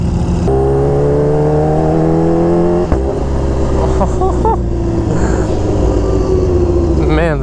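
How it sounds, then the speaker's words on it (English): A Kawasaki Ninja H2R motorcycle engine, close and loud, holds a steady high-revving drone with rising and falling pitch sweeps, riding among supercars. "Man, this bike sounds good."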